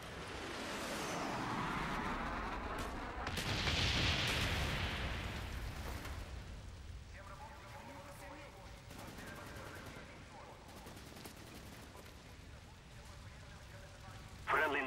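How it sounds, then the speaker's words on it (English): Rumbling explosions and roaring fire from a napalm strike in Black Ops swell over the first seconds, followed by scattered gunfire and a radio-style voice, then a sharp burst at the end. "Friendly napalm strike on the way."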